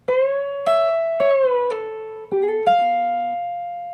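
Clean electric guitar plays a guitar solo phrase at a quicker pace, about seven sharply picked notes with slides and a final ringing sustained note, close and without any voice.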